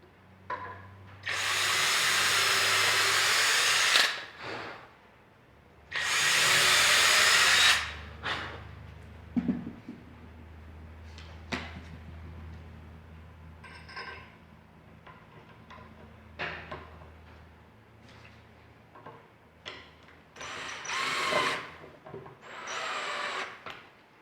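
A power drill driving screws into a wooden end table, with two loud, sustained whirring bursts of a few seconds each, followed by clicks, knocks and handling noises of the wood and hardware, close up and with no talking.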